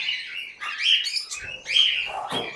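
A pair of red-head opaline pet birds gives several bright, close chirps and short calls in quick succession, alone without talk.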